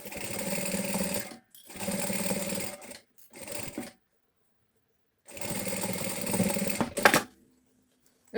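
A sewing machine runs in steady bursts while stitching a seam along the edge of fabric for a handbag, with four runs of whirring separated by short pauses and a brief clack near the end.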